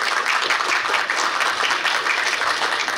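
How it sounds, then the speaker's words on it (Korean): Sustained audience applause fills a ceremony hall at a Korea University graduate school entrance and dean inauguration event, dense steady clapping throughout with no talk over it. "큰 박수 부탁드립니다."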